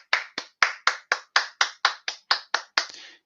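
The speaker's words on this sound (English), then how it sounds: "Round of applause for Jay." A single person clapping about a dozen times in a steady, even rhythm, close and distinct, during a casual birthday chat celebrating five years on YouTube.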